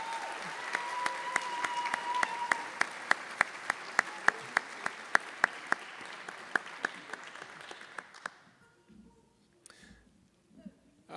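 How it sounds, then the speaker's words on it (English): A crowd applauds steadily for several seconds with clapping and sharp individual claps standing out, then the applause fades away into quiet. "Give them a round of applause, please."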